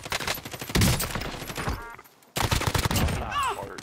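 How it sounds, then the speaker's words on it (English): Rapid gunfire in Call of Duty: Black Ops Cold War, with dense bursts of shots at the start, a brief lull, then more firing, along with a light voice underneath. "they're still shooting at me"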